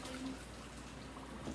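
Water runs steadily from a kitchen tap into a measuring cup, a close, even rushing stream that carries on without a break.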